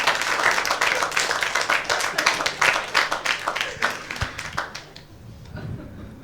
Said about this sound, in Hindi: तुम तालियां बजा लो खुल के